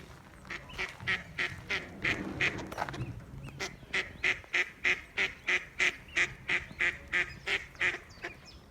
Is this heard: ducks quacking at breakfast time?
yes